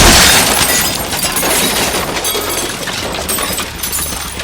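Glass shattering in a zombie audio drama as elevator doors burst, a loud crash of breaking glass up front that trails off into scattered tinkling debris.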